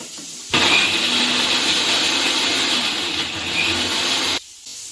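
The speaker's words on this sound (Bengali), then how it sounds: "সেই মিক্সির মধ্যেই টমেটোটা এবার পেস্ট করে নেব।" A mixer grinder whirs loudly and steadily, grinding tomatoes into a paste in a home kitchen, running for about four seconds before stopping abruptly, with no talk over it.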